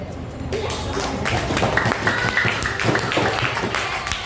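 A classroom of students claps in applause, a brief spatter of hand claps that sounds fairly close, with a voice talking over it.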